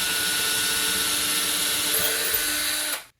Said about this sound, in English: Now let's go with the drill because that seems a little rough